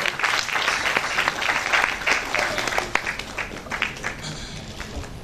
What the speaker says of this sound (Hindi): आप जोरदार तालियों से स्वागत करें।